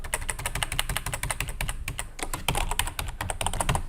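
Rapid, uneven clicking of keys on a computer keyboard while code is typed, close and steady throughout with short pauses between bursts.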